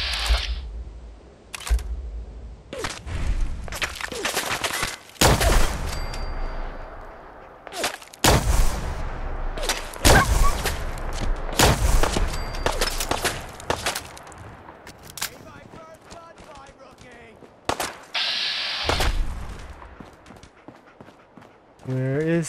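Gunfire from Fallout 4 during a survival-mode clearing of the Corvega plant: sharp, irregular shots and bursts crack out one after another amid game noise, with brief gaps between volleys.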